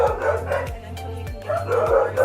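Dogs bark in the dog intake area of an animal shelter where police drop off animals, a rapid run of loud, close, repeated barks and yips echoing in the room.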